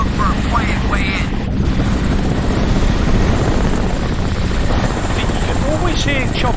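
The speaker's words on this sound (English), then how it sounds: "You can always hear choppers, but you can never see the choppers." A helicopter in the video game Crysis Remastered gives a steady, loud rotor drone that fills the scene, with brief voice fragments over it.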